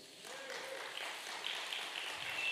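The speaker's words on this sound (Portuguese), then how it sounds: "Uma salva de palmas para o pessoal da mídia" A church congregation gives a faint, steady round of applause for the media team, a soft even patter of hand claps heard from some distance.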